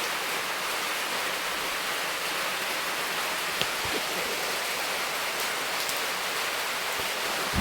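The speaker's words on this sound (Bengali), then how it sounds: "পড়ছে বৃষ্টি" Rain falls steadily outside, an even, unbroken hiss with a few faint drips standing out, no voices.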